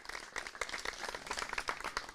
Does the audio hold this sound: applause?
yes